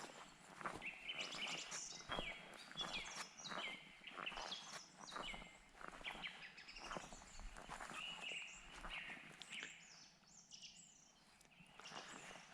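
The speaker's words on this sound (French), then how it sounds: "Vraiment paisible avec le bruit des oiseaux, là. Enfin, le gazouillis." Birds chirping along a mountain hiking trail on the Chemin de la mâture d'Issaux, a steady stream of faint, busy twittering with soft footsteps and rustling underneath.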